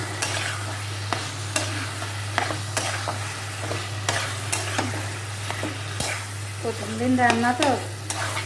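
Potatoes cooking with spice paste in a pan for an egg and potato curry, repeated sharp spatula scrapes and knocks over a continuous sizzle and low hum, with a short spoken phrase near the end.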